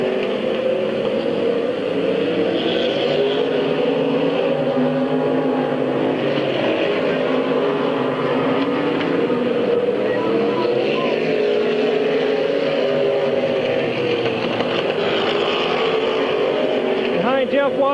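Stock cars racing at Midvale Speedway in 1997 make a continuous droning engine roar from the pack circling the track, with an announcer talking over it the whole time.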